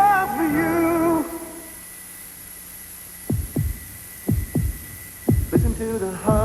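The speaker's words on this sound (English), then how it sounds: "Listen to the heartbeat." A thumping heartbeat sound effect from a 1980s Chevrolet commercial, with a run of paired lub-dub beats, loud and close, following a brief stretch of music and then a quiet pause.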